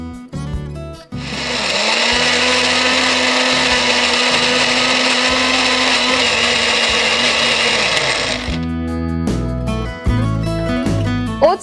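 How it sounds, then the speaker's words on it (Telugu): A kitchen mixer blender whirs at a loud, steady pitch as it blends oats, muskmelon and banana into a smoothie, starting abruptly and cutting off after several seconds, with brief clatter on either side. "సో ఇంగ్రీడియంట్స్ అన్నీ వేసుకున్నాం కదా, ఇప్పుడు మిక్సీ చేసుకుందాం."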